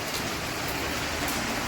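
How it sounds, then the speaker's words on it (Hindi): Heavy rain pours down steadily in a dense, even hiss, with no voices. "और बारिश फिर बहुत तेज़ शुरू हो गई हैं"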